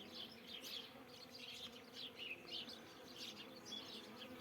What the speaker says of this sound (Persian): زنبور